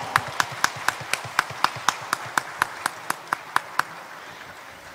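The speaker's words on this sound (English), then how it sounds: "Let's give him a warm round of applause, everybody." A single pair of hands claps at an inauguration ceremony for a new head office building, about sixteen slow, evenly spaced claps at moderate distance, fading out before the end.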